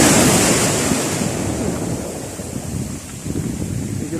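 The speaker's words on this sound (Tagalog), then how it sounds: "Medyo malakas po yung alon po natin." Heavy sea waves surge and break along the shore where a line is being cast for fish, a loud continuous roar that swells and eases, overlaid with wind rumble and no speech.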